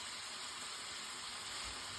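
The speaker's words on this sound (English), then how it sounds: "Sizzling away." Chicken korma sizzles steadily in a pan, a constant broadband hiss with faint crackles running throughout at moderate, even loudness, no voices.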